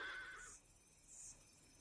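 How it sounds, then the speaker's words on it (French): A zebra whinnies, a short high neigh at the start followed by faint, quieter squealing calls, heard at moderate distance against a low background. "L'hennissement est comme un cri de ralliement entre les zèbres."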